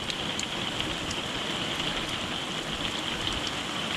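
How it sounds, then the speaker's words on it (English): Steady rain falls at a wooded campground beside an RV, a dense even hiss without breaks, moderately loud and close, with no one talking. "Just enough rain to start making a couple puddles."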